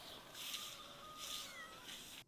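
A cat meows twice in quick succession, faint and nearby, with long drawn-out calls against a quiet background.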